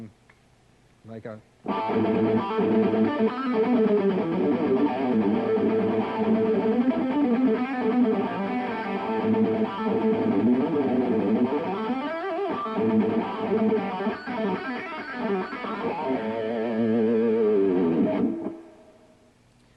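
A distorted electric guitar plays a heavy metal rhythm part with busy fills between chords, loud and continuous for most of the clip, with a few spoken words just before it starts.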